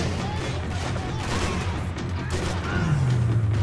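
Gunfire from a shootout in the video game Max Payne 3, a dense continuous barrage of shots and booms filling the whole stretch at close, loud level, with a rising tone near the end.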